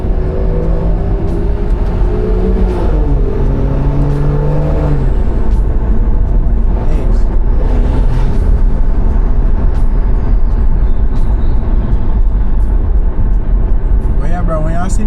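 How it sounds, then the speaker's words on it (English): Turbocharged engine of a stage 2 tuned BMW 340i under acceleration from the driver's seat, rising and falling in pitch, loud and steady, with turbo whoosh and some road noise. "Listen to this turbo, chat."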